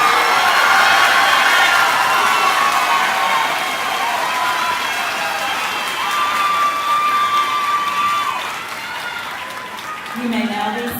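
An audience at a high school graduation gives sustained, loud applause mixed with cheers and crowd noise, tapering slightly toward the end, with voices mixed in.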